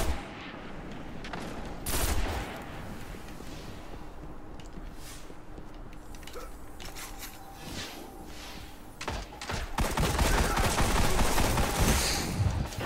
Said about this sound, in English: Oh, that guy just got shot in the face.